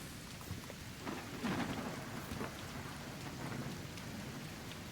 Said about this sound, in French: L'orage, il est vénère, hein. Il se calme pas.